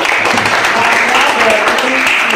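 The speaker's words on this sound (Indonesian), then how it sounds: "Tepuk tangan untuk kalian semua." Classroom of students applauding together, a steady wash of clapping from many hands throughout, fairly loud and close, with voices mixed underneath.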